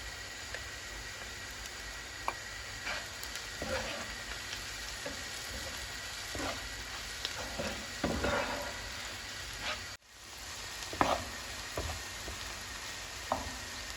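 Onion and garlic sautéing in a hot pan, a steady crackling sizzle broken by occasional scrapes and clicks of stirring, with no talking.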